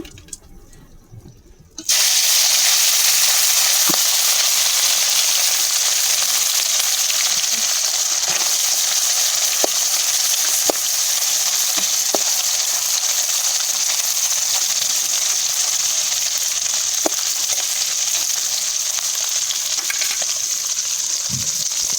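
Small mourola fish frying in hot oil in a pan, a loud, continuous close sizzle that bursts in after a quiet start and holds steady with scattered pops and crackles.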